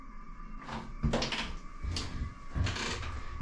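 A shower door in a cruise ship cabin swings back and forth, giving several soft bumps, rattles and knocks close by with no talking.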